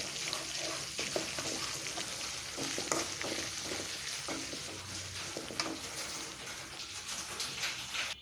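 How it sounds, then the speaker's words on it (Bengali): Ginger and garlic paste fry with whole spices such as chilli, cloves, cardamom and bay leaf in a pan, giving a constant sizzle with light stirring scrapes close by. "আদা বাটা রসুন বাটা দিয়ে ভালোভাবে নাড়াচাড়া করে মিশিয়ে দেবো"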